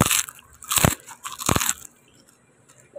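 Chicharon pork rinds crunch loudly in three sharp, close bites about half a second apart, followed by quieter chewing.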